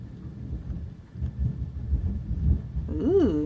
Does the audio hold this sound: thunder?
yes